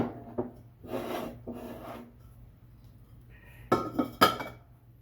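Ceramic cookie jar lids are handled, set down and rubbed against each other, giving scraping sounds and sharp clinks in separate bursts, close up with quiet gaps between.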